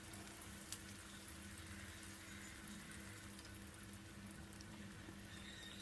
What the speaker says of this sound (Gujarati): એકદમ જ ફૂલ તેલ આવી જાય ત્યારબાદ ગેસ ધીમો કરીને બધા વડા આ રીતે તેલમાં મૂકી દઈશું.